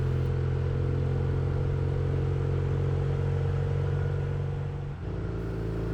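A Norton 850 Commando motorcycle engine holds a loud, steady, low rumble while riding, with only a brief dip near the end. No one speaks.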